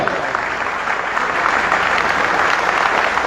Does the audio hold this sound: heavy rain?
no